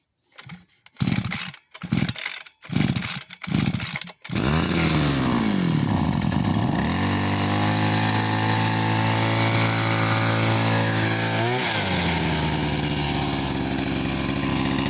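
Petrol brush cutter (scythe trimmer): several sharp pull-start yanks, then the two-stroke engine catches and runs loud and steady close up, its pitch swooping as it revs before settling into a constant high drone.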